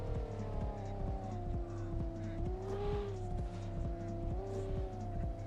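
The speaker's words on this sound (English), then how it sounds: "Burnouts for the boys." A race car at a drag racing event does a burnout, its engine holding a loud, steady, throbbing drone with rising and falling pitch, and tire squeal faintly layered on top, close and continuous.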